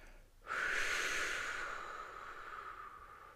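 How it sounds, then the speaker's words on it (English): A long, forceful whooshing exhale as part of a children's squeeze-breathing relaxation exercise, starting abruptly and fading slowly over a few seconds, close and clear. "now blow it all out with a big whoosh"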